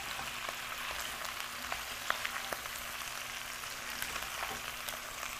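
Sesame-oil stir-frying over medium-low heat, a steady soft sizzle with scattered light crackles and a few faint clicks of stirring, close and alone with no talk.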